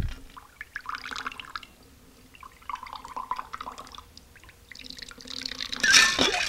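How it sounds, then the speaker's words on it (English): Liquor pouring in a shot stack, three shots poured at once by a flair bartender, with soft trickling and splashing that builds toward a brighter splash near the end. "it's a fun way for us to pour three shots at the same time"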